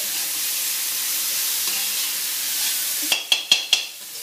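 Vegetables and noodles stir-fried in a pan over a high flame give a steady sizzling hiss, followed near the end by four sharp scraping knocks of a utensil against the pan.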